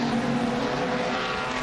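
Race cars roaring around the track during a heat race, a dense loud engine roar heard from a distance, no talk.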